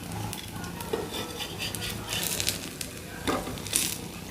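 Kidney bean kebabs cooking in a pan give a soft, steady sizzle, broken by light clinks and scrapes of a utensil against the pan.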